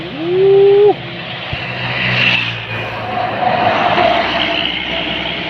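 Trucks and a motorbike race through a bend in the road at high speed, a short tonal blare at the start giving way to a loud, steady roar of engines and tyres rushing past nearby.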